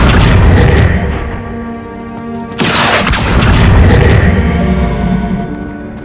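A spell cast in the Hogwarts Legacy video game lands as a loud, booming magical burst over dense game music and ambience, with a sharp bright impact surging about midway through.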